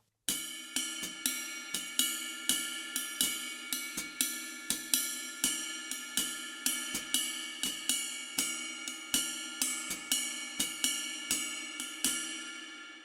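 Jazz ride cymbal on a drum kit plays a triplet swing pattern alone, its steady repeating strokes ringing and shimmering with sustained wash between hits.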